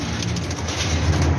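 Pigeons cooing in a loft, soft low coos over a constant broadband hiss, steady and fairly loud with no talk.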